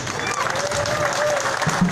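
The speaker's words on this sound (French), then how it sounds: "Applaudissez ah, pour eux." Applause from the crowd at an MRC political rally on the esplanade in Mbouda, a steady broadband patter throughout with voices and a tonal sound running through it.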